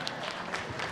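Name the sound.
applause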